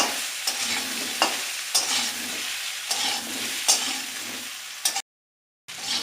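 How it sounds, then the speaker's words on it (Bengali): Ash gourd pieces fry in oil in a pan over medium heat, a steady close sizzle broken by periodic scraping stirs, with a brief gap of silence near the end. "এখন এগুলোকে ভালো করে ভেজে নেব। আঁচটা মিডিয়ামে রেখে আমি কুমড়োগুলোকে ভেজে নেব।"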